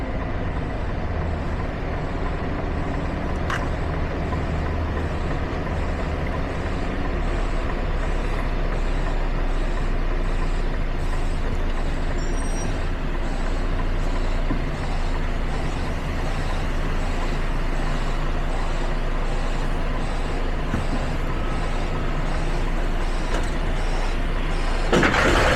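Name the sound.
HGV truck reversing to hook up to trailer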